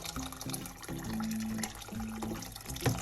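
Hot water poured into a pot while making Moroccan barley couscous with vegetables, a close, gurgling stream with tonal bubbling pitches that rise and fall through the pour.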